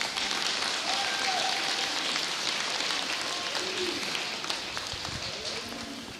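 A crowd applauds in a North Dakota high school boys' basketball gym, a dense, steady wash of clapping that slowly tapers, with faint voices mixed in.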